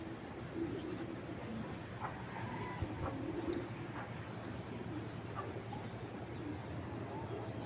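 A racing pigeon from a foreign bloodline coos softly in a few low, murmuring rolls, faint against a steady background hum.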